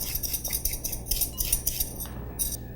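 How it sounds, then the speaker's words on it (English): Rada Deluxe vegetable peeler scraping carrot skins off in quick repeated strokes, each pass a short bright rasp with light metallic clicks, close and clear with no talk. "with my Rada Deluxe vegetable peeler, I'm just gonna take the skins off my carrot into my garbage bowl"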